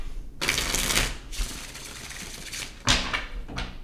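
Tarot cards are riffled and shuffled in several quick bursts, close and crisp, with short pauses between the flurries.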